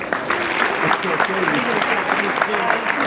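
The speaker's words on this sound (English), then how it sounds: "Give yourself another round of applause" An audience applauds at the 44th annual YMCA Black Achievers awards celebration; a loud, sustained round of crowd clapping fills the hall, with some voices mixed in.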